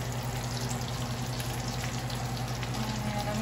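Bean and chorizo tacos dorados crackle in hot oil, a steady, even sizzle that holds close and uninterrupted, with no one speaking.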